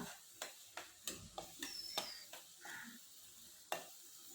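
Soaked chana dal is stir-fried with ginger garlic paste in a pan, a faint sizzle under repeated scraping strokes of a spatula, each stroke a quick soft scrape.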